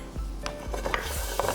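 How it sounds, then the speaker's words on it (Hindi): Finely chopped garlic fries in a pan of oil and butter, a faint sizzle overlaid with frequent spoon scrapes and light clinks against the pan, with no talking. "अब इसमें डालेंगे बारीक कटा हुआ लहसुन।"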